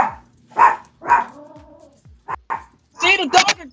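A pet dog barks several times in short, loud, close yips, with a pause mid-way and a quick double bark at the end, alone without talk.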